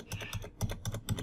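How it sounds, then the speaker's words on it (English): Rapid, crisp keystrokes on a computer keyboard, about five evenly spaced taps repeating one key in a steady rhythm, close and quiet with no voices. "you just start typing zeros"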